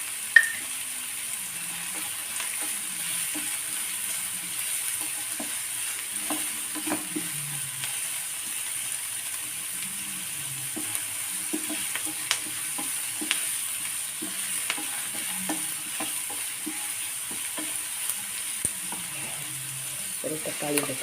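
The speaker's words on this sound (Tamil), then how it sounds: "நல்லா வதங்கட்டும். வதங்கிறதுக்காக கொஞ்சம் உப்பு போட்டுக்குவோம்." Onions sauté quietly in oil with salt added, giving a faint steady sizzle with intermittent scraping and stirring clicks from a pan, and no talk heard.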